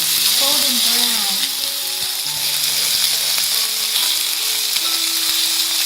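Teriyaki chicken frying in a pan, a steady loud sizzle and hiss held throughout, with some music-like tones running faintly underneath.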